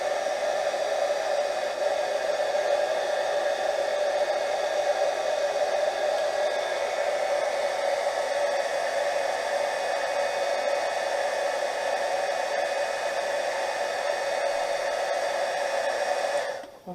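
Hair dryer blowing on painted doll tags: a steady, loud, continuous whine with airy hiss that runs unbroken for about seventeen seconds before cutting off at the end, with no talking.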